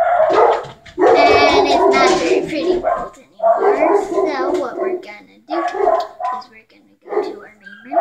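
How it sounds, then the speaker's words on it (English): A dog barks and whines in the background while a person talks continuously over it; the yips and whimpers sit mostly under the speech. "Sorry about the dog."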